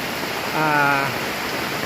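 Heavy morning rain falls at Ban Khok Yai in Thailand, a dense, steady hiss of downpour close by, with a brief voice-like tone rising over it midway.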